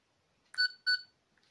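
Two short electronic beeps in quick succession from a toy sonic screwdriver, clear and close, with near silence around them.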